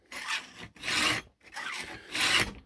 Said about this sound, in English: We're just sharpening the chain here, putting a nice edge on those teeth.